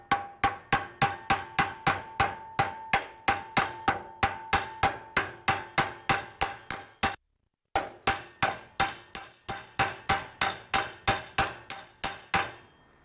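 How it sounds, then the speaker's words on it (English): Steady, evenly spaced metallic hammer blows ring out one after another as a bent bolt on a boat trailer winch is banged out, a brief pause, then the banging resumes at the same rhythm. "I'm going to get a hammer and try to bang this thing out."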